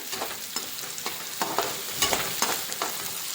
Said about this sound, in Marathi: कांद्याला छान गो गुलाबी होईपर्यंत परतून घ्यायचा